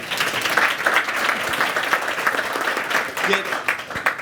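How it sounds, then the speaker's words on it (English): Audience applause for the experts at a hacking event, dense steady clapping from a crowd with voices murmuring underneath throughout. "guys, round of applause for the experts here today."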